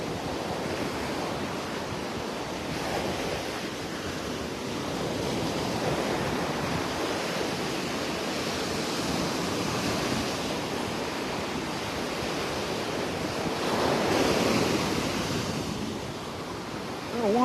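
Waves wash and roll onto a beach in North Naples, Florida, on a gray, rainy early morning, a broad continuous surf rush mixed with wind buffeting the microphone, swelling briefly louder near the end.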